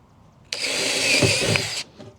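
Handheld power drill whirring as it bores into plywood, a single burst of just over a second starting and stopping sharply, loud and close.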